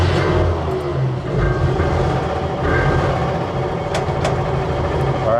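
A WW2 Panzer tank engine running just after being cranked, a loud continuous low rumble and idle throughout with a few faint metallic clicks, no speech.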